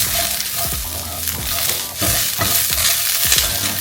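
Ginger tofu seasoned with black pepper stirred in a hot pan, loud continuous sizzling with rhythmic scraping strokes of a utensil, close up and without voices.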